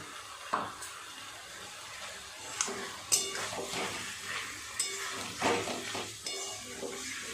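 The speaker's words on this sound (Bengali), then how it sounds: "মশলাটার সাথে চিকেনটাকে খুব ভালোভাবে কষিয়ে নিতে হবে" Chicken pieces fry with ground roasted spice masala in a pan, a continuous close sizzle with irregular stirring scrapes and clinks of the spoon against the metal.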